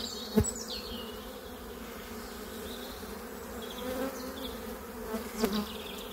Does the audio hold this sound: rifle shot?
no